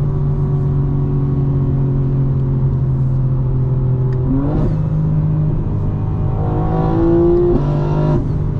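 A 2025 BMW M4 Competition xDrive drives at speed, its engine droning loudly and steadily up close, then rising and falling in pitch through gear changes and revs near the end.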